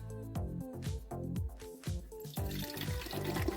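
Filtered water pours steadily into an Italian aloe gel concentrate (Livesta Aloe-gel 3X Attivo), a continuous close-up trickle and splash over a tonal, music-like background.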